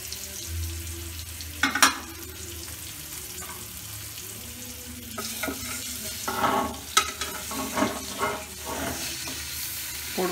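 Pointed gourd (potol) fries in a pan on a lowered flame, with intermittent spatula scrapes and clinks over a soft sizzle, close and without speech.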